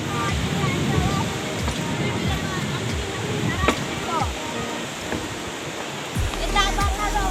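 A river swollen by monsoon floodwater near a waterfall, roaring as a broad, steady rush of water, with a person talking over it and a few knocks and bumps.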